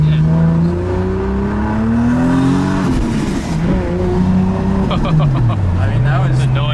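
A widebody Toyota Supra's HKS 3.4-litre engine revs up and drops back in first gear, the deep growl rising and falling in pitch, loud and close, with voices chatting over it.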